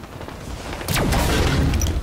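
A fuel rod cannon fires in Halo 5 Guardians: a loud, sharp energy blast with a descending whine, then a sustained roaring rumble that fills the rest of the moment.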